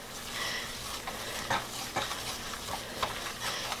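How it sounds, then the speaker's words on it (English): Flour and butter roux cooking in a pan while being whisked, a soft continuous sizzle with a few brief scraping strokes and clinks against the pan, no talking. "equal parts of flour and butter, and you want to whisk these together or stir them with a wooden spoon"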